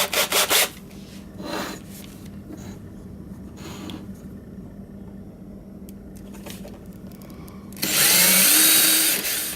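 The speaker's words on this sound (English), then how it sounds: "we'll put a little pilot hole in there" A small drill bores a pilot hole into a plug for a DIY quilting machine, with short bursts of whirring bit noise at the start and a louder sustained run near the end, separated by quieter scraping.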